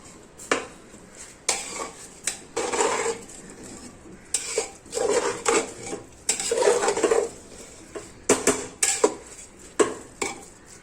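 Metal spoon scraping and clanking against a pressure cooker while stirring rice for veg pulao, in irregular bursts close up with short pauses between strokes.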